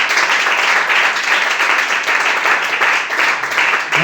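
A church congregation claps and applauds loudly and continuously, a thick, close wash of hand claps lasting the full few seconds with no speech over it.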